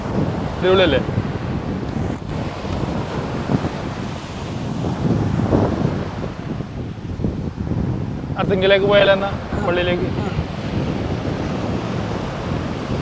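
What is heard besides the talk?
wind and waves at the beach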